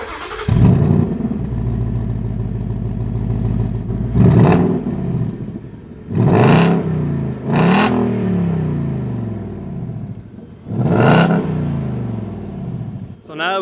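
A 2019 Ford Mustang GT with a 5.0 V8 and resonator delete starts warm and settles into a deep rumbling idle, then is revved sharply four times, each rise and fall loud and close.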